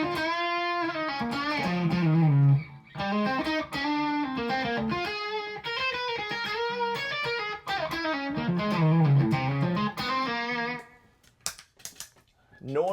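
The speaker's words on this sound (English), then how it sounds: "Some drive pedals, the Zen Drive 2." An electric guitar runs through a Zen Drive 2 overdrive pedal, playing a flowing melodic lead with sustained, gritty notes and quick runs, then stopping abruptly in a few scattered picked notes.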